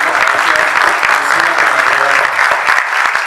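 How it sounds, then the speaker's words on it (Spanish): An audience at a congress in San Pedro Sula breaks into loud, sustained applause, a dense wash of clapping throughout with a voice faintly under it. "Un fuerte aplauso para Leonel, para David."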